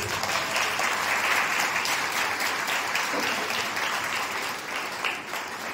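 A congregation claps at a Pentecostal church service in Chhattisgarh, a dense, sustained round of applause from many hands, loud and even, easing slightly near the end.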